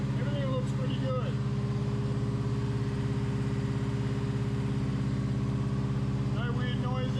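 A car engine hums steadily at about 2,500 RPM in second gear, with the car up on a hoist after a new gearbox and clutch were fitted, a constant droning tone, while a person speaks faintly over it at the start and end.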